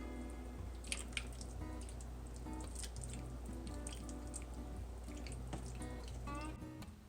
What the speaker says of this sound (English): I'm just going to simply pour it over the vegetables and the roast itself